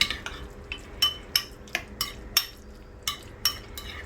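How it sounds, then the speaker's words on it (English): A spoon stirs a mac and cheese mixture in a pot, making a steady run of about a dozen light metallic clinks and scrapes, close and fairly quiet. "Just kind of get it in there, really mix it in."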